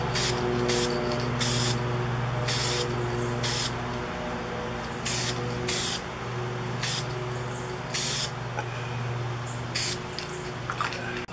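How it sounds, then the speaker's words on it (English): A Color Rite aerosol can sprays primer onto a Yamaha C3 scooter fender in repeated short hissing bursts, about a dozen over the stretch, loud and close over a steady background hum. "I'm going to put the second little coat of primer on"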